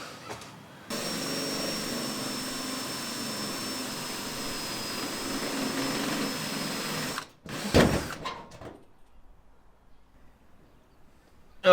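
Drill boring through the metal roof of a 4x4 van, a steady loud whine running for several seconds, then stopping, followed by a short clatter and quiet.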